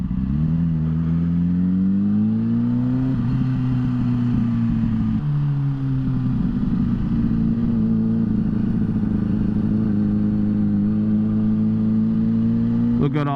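Motorcycles, superbikes and Harleys rumble and idle at an outdoor bike night, a steady low engine drone with pitch shifts and mild revving held for the whole stretch, with people talking faintly beneath.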